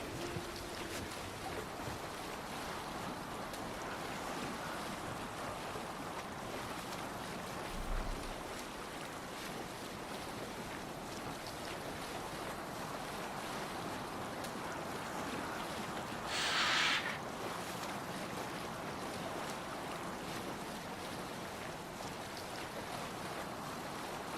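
Ocean waves wash steadily around a sailing ship in the Viking game Assassin's Creed Valhalla, a constant soft rushing with wind, faint and distant, with a brief brighter splash midway.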